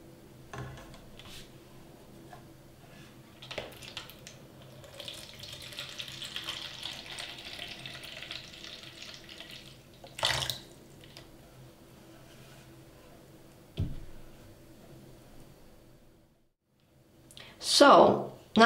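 Tap water runs steadily into a plastic outer pot container for a store-bought sage plant, a soft continuous splashing trickle lasting several seconds, with brief knocks and handling clatter around it and a louder rustle near the end.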